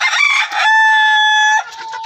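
Farm chickens cluck loudly and close by, and a rooster lets out one long, strong crow in the middle of the flock's noise, with no talking.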